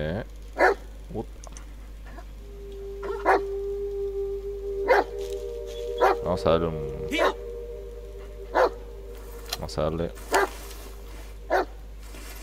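A dog in the game Blair Witch barks in short, separate bursts throughout, several sharp yelps spaced a second or two apart, heard under someone talking over the game audio.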